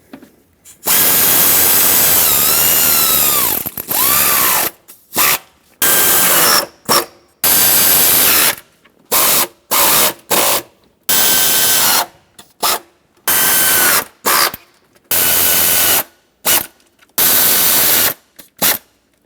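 A power tool or impact driver runs in repeated bursts, tightening intake manifold bolts on a 1999-2016 Ford E-350 with a 5.4L V8, loud and close, with short pauses between each bolt.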